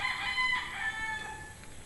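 A bull stag gamecock crows once nearby, a single drawn-out call that rises and then trails off, with no other voices present.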